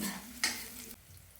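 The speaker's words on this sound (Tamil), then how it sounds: "வெங்காயம் பூண்டையும் சேர்த்து 2 நிமிஷம் நல்லா வதக்கிட்டே இருங்க." Quiet, steady sizzling of onion and garlic frying in oil, with a brief stirring scrape partway through.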